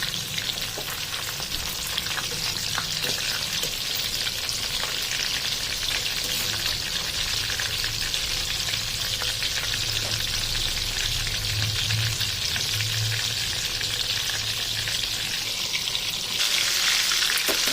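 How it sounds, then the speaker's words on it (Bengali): Loitta (Bombay duck) fish frying in oil over medium heat, giving a steady, close, dense sizzle with faint crackles that runs the whole time without talk. "হালকা মিডিয়াম আঁচে হতে হবে, যাতে মাছের ভিতরটা ভালো করে ফ্রাই হয়।"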